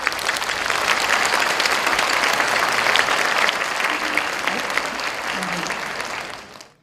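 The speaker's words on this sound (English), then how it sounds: "Please welcome him with your warmest applause." Warm applause from a conference audience greets the Governor of Jeju Special Self-Governing Province, Kim Tae-hwan, a steady dense clapping that holds for about six seconds before quickly fading out.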